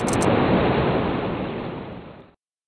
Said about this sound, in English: You awaken to the sound of water.